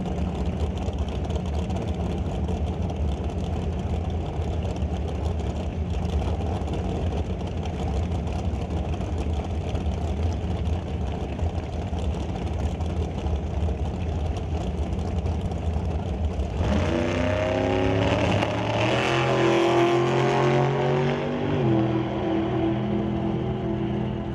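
Twin-engine drag racing dragsters, one a 2007 car, run at the start line of a Super Pro drag race, as a steady loud engine drone that swells into a harsher, rising roar partway through, continuous and near.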